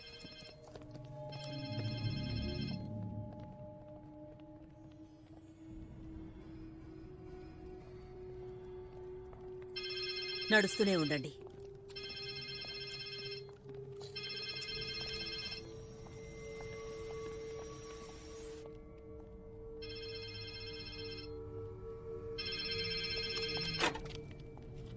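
A telephone rings in repeated short bursts with pauses between them, moderately loud over a low droning background, with a brief spoken line and a few sharp swooping noises in between.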